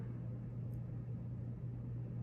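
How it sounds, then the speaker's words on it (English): Traffic in a big city in Colombia makes a steady low rumble with a constant hum, heard indoors or at a distance without talk. "You may hear a lot of traffic as I'm in a rather big city at the moment"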